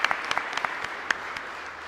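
Congregation applause at a Catholic mass in a parish church, a short burst of scattered hand claps with distinct individual claps standing out, moderately loud and fading quickly.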